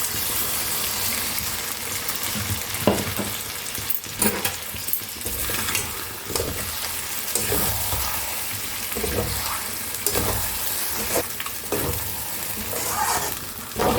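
Ground cashew, melon seed and poppy paste being stirred into mutton curry frying in a pan, a steady close sizzle with scraping and stirring strokes throughout, occasional louder clatters.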